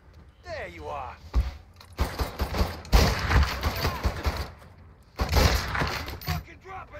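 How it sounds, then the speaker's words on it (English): Bursts of gunfire crackle in a Mafia 3 firefight, clustered volleys of shots and breaking debris in uneven bursts separated by short pauses, with someone talking over them. "Who the fuck is shooting at me?"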